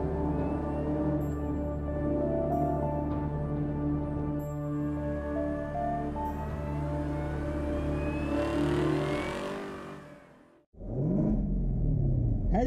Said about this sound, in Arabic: هذا صوت الكاميرو ZL1